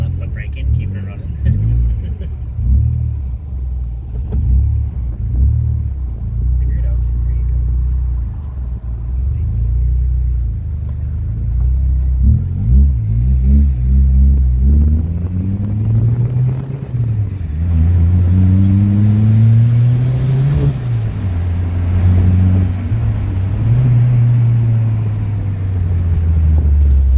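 A K24-swapped all-wheel-drive Honda Civic engine hums steadily while driving, then revs up and down in rising and falling sweeps, loud from inside the car, with people talking over it.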